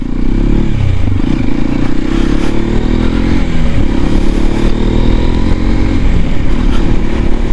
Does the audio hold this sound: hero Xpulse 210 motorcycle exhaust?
yes